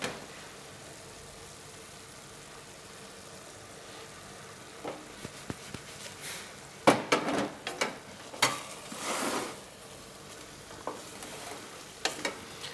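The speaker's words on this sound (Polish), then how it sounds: "No to jest właśnie urok smażenia." Soft steady sizzling with scattered crackles and pops, food with marjoram and garlic frying in a pan, bursts of louder spatter in the middle; no talking.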